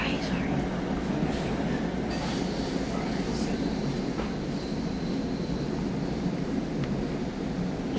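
A commuter train rolls steadily along the track, its wheels rumbling continuously with faint squeals and occasional clacks as it passes over rail crossings, close and even throughout.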